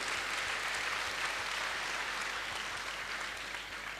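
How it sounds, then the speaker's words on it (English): Sustained audience applause at an interaction event in Aurangabad, a dense, steady wash of clapping that fills the whole stretch and eases only slightly at the end. "So first I'd like you to give him a big round of applause."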